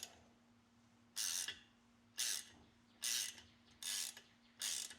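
A hand ratchet loosens a brake part during installation of drilled and slotted rotors and brakes, five loud buzzing ratcheting bursts at an even pace, close up, with a steady hum between them.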